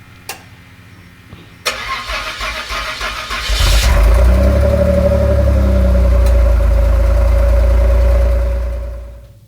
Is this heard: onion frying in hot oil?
no